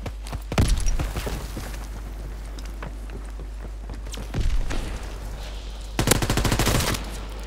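Bursts of gunfire from Call of Duty WWII: a loud volley near the start, another around the middle, and a dense rapid machine-gun burst near the end, with quieter scattered shots in between.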